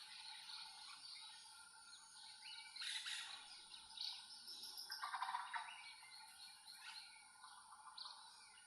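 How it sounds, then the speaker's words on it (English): Lesser greenlet and yellow-olive flycatcher calls in Guatemalan tropical forest, a mix of faint to moderate chirps and tweets over a steady background of insect trilling, with brief louder bursts near the middle. "Also lesser greenlet and yellow olive flycatcher."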